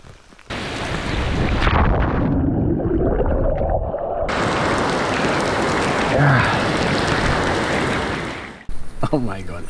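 Steady rain on a tent while camping near Dijon, France, during a storm, a dense continuous broadband hiss that holds loud for most of the stretch before cutting off near the end.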